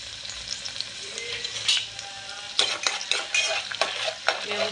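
Ginger-garlic paste being sautéed with onions in a pan for a Konkani-style fish curry, a soft sizzle broken by repeated scraping and clinking of a spatula stirring close by.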